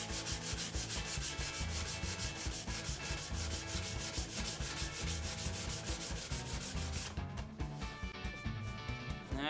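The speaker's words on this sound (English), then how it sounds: "So this will have to be sanded by hand." Wood hand-sanded with 220 grit sandpaper, a steady rapid rasping rub in quick back-and-forth strokes, close and loud throughout, shifting to a slightly different texture near the end.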